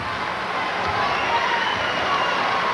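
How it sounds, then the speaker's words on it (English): A gym crowd cheers for the local Pennsylvania high school team, Whitehall, during a 1996 basketball game against St. Patrick's. The roar is a steady, fairly loud wash of voices that holds constant throughout with no single standout shout. "The crowd into it now for the local Pennsylvania team."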